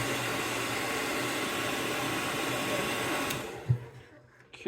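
A heat gun or hair dryer blows a steady, loud whooshing roar while warming the plastic bill of a square bill crankbait so it can be bent, then cuts off near the end, leaving a quieter tail with a small click.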